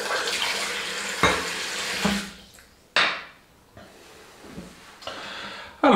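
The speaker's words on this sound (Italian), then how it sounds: "Quindi intanto facciamo uscire l'acqua calda." Hot water runs from a tap in a bathroom, a splashing hiss that cuts off and restarts several times with clunks as the flow changes.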